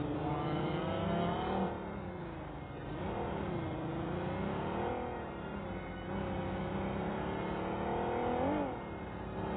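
A car driven in the game PUBG, its engine humming and revving steadily with rising and falling pitch as it speeds along, heard close and continuous throughout.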